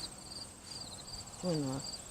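Repeated high, thin cricket chirps pulse steadily in the background in a pumpkin garden, with a brief low voiced sound breaking in near the end.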